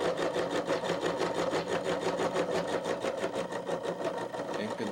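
A machine cutter bites into a workpiece with a fast, steady chattering rhythm of evenly spaced strikes, close and continuous, with no talking over it.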